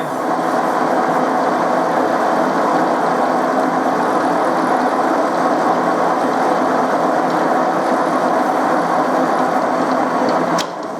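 A machine tool spindle turns at about 200 rpm while boring a cylinder head for a T25 tractor, giving a steady, loud mechanical whir with a sharp click near the end.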